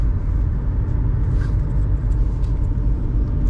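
Old VW Golf 4 driving out to a field, giving a steady low engine rumble and road noise from inside the car, with no talk.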